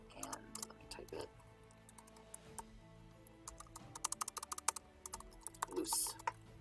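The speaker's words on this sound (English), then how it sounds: "And let me type it." Computer keyboard keys tapped in quick irregular bursts, fairly close and moderately loud, with brief pauses between runs of keystrokes and no talking.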